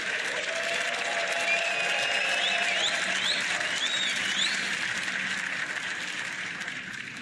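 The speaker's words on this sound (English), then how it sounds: "a round of applause for your finalist, Luca Bercel, and your winner, Mark Allen." Crowd applause fills the arena after the 2024 Riyadh Snooker Championship final. Sustained, even clapping holds strong for several seconds with a few faint high whistles above it, then slowly thins toward the end.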